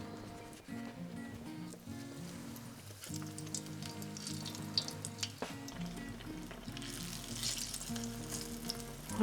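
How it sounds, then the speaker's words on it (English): Fritters deep frying in oil held just above 350 degrees crackle and sizzle quietly, a fizzing bubble that carries on beneath tonal background music for the whole stretch. "we're just going to keep frying up our fritters."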